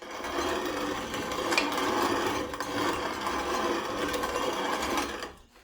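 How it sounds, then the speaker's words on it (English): Homegrown Mandan Bride corn is ground for polenta, a continuous close, gritty rasping and whirring that runs steadily before cutting out near the end. "The last thing I'm going to do before lunch is grind up some of my homegrown corn, Mandan bride corn."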